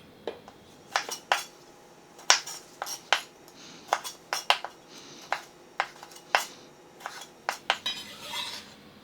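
A knife taps sharply against a cutting board, halving cherry tomatoes in a quick, irregular series of chops, close and clear with no talking.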